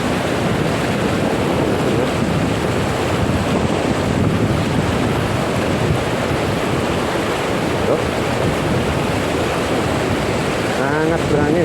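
Strong wind roars across the microphone while fishing by the water, a constant loud buffeting rush with surf-like noise filling the whole span.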